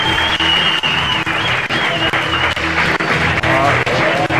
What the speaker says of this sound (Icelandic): KM fagna þessu gríðarlega vel